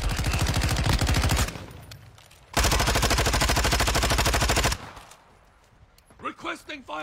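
Rapid automatic gunfire from a military video game rattles in two loud, sustained bursts separated by a brief lull, then fades into quieter background noise as a voice speaks near the end.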